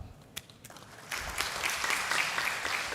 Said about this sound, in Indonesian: Tepuk tangan mahita tu pengurus ama.